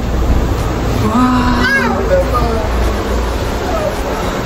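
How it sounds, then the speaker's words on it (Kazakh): Steady rushing roar of a mountain river far below a cable car on the Medeu–Shymbulak line in Almaty, a broad continuous wash with voices talking excitedly over it. "Өзенді көрдің бе? Дауысы бірақ."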